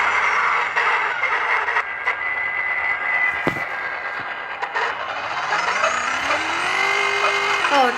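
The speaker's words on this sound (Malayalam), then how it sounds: "ഒച്ച കേട്ടോ V8" A V8 car engine roars in a racing video game, a steady loud drone whose pitch climbs smoothly toward the end, like a car accelerating.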